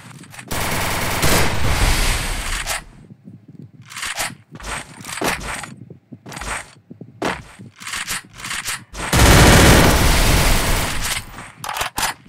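Heavy automatic gunfire in a video game shootout from a solo match, loud sustained bursts alternating with shorter volleys and brief gaps, no talking.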